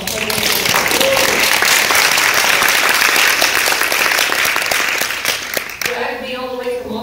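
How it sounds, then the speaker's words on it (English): Loud, sustained applause from a convention audience at Portland VegFest fills several seconds, then tapers off as a voice begins speaking over the fading claps. "Just give them a round of applause."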